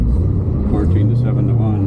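A Doug Rippie Motorsports LT1 Corvette engine idles with a steady, deep, close rumble while someone talks over it.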